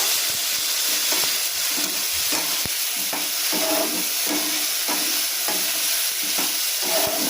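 Paneer and potatoes frying in a pan with turmeric and salt, a loud continuous sizzle and hiss with repeated scraping stirs throughout, no voices.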